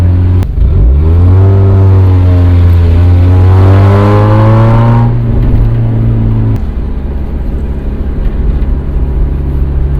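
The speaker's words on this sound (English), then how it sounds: "So it does have an exhaust leak right now, so that's why it kind of doesn't sound too good." A 1996 Mazda Miata engine with an exhaust leak revs up loud and close while driving, pitch climbing steadily through a gear before dropping at a shift, then droning on at a lower, steady pitch.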